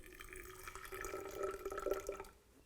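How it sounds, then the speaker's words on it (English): About 50 milliliters of water is poured into a jar holding matcha powder, a faint, short trickling pour that swells briefly and then tapers off. "Then we're going to add our 50 milliliters of water."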